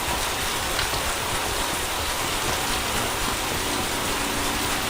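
Steady rain pours down in a dense, even hiss with no clear breaks and no voices, played back from a video.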